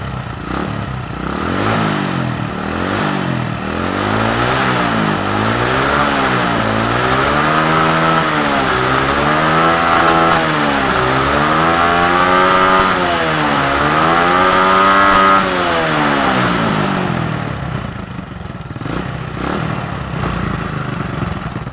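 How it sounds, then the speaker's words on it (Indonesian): An older Honda Supra X motorcycle with a weakening stator coil is revved repeatedly by twisting the throttle, its engine note rising and falling in a steady series of swells, loud and close, before dropping back to idle. "Ini saya pelintir gasnya dulu, apakah ada pengisian."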